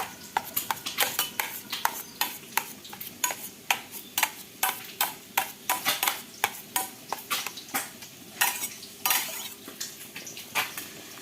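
A metal spatula scrapes repeatedly against a cooking pan in a quick, steady rhythm of sharp scratches, close and clear with no talking.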